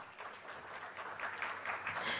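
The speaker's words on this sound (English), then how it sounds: "Can engineer have a round of applause, please?" Applause from a business forum audience for a speaker, the CEO of an electricity regulatory authority, rising in density and sustained throughout at moderate distance, with no talk over it.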